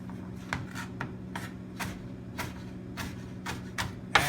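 A knife cutting through an artichoke in a kitchen, a series of short, crisp crunching strokes at a steady, unhurried pace, close but fairly quiet, with no voices.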